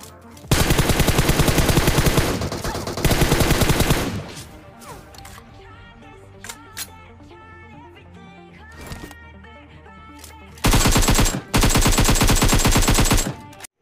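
Gunfire in the video game PUBG during a solo-versus-squad match, loud rapid automatic bursts in several volleys separated by quieter stretches of game sound, with a final long burst near the end.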